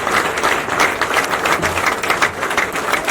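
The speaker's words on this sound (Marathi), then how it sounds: "सर्वांनी टाळ्या वाजवून त्यांचं स्वागत करावे ही विनंती." A large crowd at a paan vendors' protest rally at Azad Maidan, Maharashtra, applauds to welcome the state president to the stage, producing a steady, dense wash of clapping that continues throughout.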